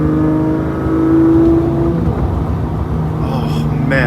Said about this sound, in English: Everyone should experience driving a gated V12 once in their life.